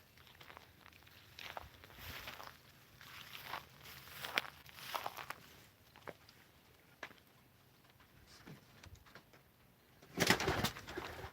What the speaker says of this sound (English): Oh, pigeons.